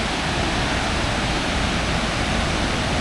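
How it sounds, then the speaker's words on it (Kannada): A steady, loud roar of a waterfall in Karnataka, India fills the air with constant white rushing noise, no voices. "ಅಲ್ಲಿಂದ ನೋಡಿ ಮೇಲಿಂದ ಹೆಂಗೆ ಬರ್ತಾ ಇದೆ ಅಂತ ನೀರು"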